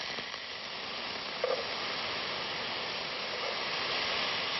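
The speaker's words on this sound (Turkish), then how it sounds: "Küp doğranmış patatesleri kıymanın üzerine atıyorum." Steady, continuous sizzling of diced potatoes frying with minced meat in a hot pan for Yerköy soup, close and even throughout with no talking.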